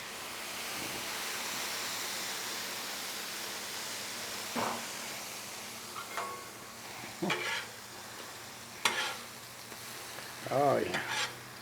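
Tortillas warming on a Blackstone 36-inch griddle give a steady, soft sizzle throughout, with a few brief scraping or clattering touches near the end and no talking.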